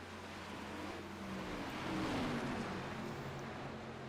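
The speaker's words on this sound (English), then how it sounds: "you can hear how slow these drivers are having to take these corners" Race cars in a sim racing game lap a Legacy Kentucky track in an Outlaws series event, a steady broadband engine roar with a slight rise and sweep midway as cars slow through corners, continuous and fairly faint.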